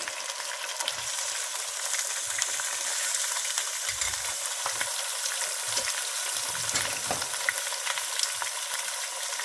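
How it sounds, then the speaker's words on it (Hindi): Ginger garlic paste and chicken fry in hot oil in a pan, giving a loud, steady, close sizzle with occasional stirring scrapes and no one talking. "अब जिंजर गार्लिक पे देखें कलर आ गया। मैं इसके अंदर अब चिकन ऐड कर दूंगी।"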